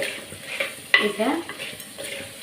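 Crab curry masala fries in a pan with a low sizzle while a spoon stirs it, giving one sharp scrape and clink in the middle amid softer rustling.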